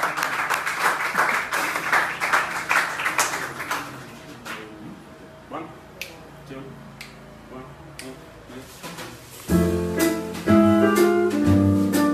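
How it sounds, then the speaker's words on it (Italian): Audience applause follows a live jazz performance by a trio, scattered claps building into a fuller burst near the end, mixed with lingering instrument sounds and a voice speaking. "Oh, e applaudiamo!"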